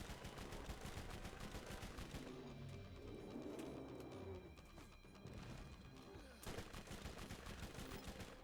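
Rapid SMG gunfire in Borderlands, dense bursts of shots running through most of the stretch with a brief lull in the middle, mixed with explosions and game sounds.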